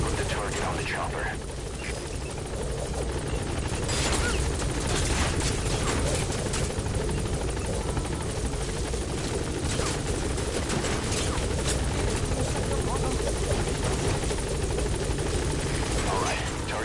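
Helicopter in the video game Metal Gear Solid V: The Phantom Pain, a loud, steady rotor drone with gunfire bursts mixed in, and voices talking over it throughout.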